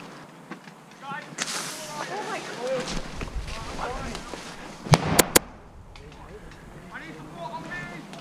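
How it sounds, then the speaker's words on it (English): Airsoft grenades burst in dense foliage during a milsim game, several sharp bangs clustered near the middle, with crackling rustle and someone speaking throughout. "it's time to deploy grenades to clear them out"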